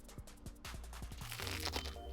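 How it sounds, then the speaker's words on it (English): Someone bites into a mushroom bologna sandwich, with a rhythmic series of close crunches and crinkly chewing noises, quiet and alone with no speech. "Ooh, that's a nice crunch."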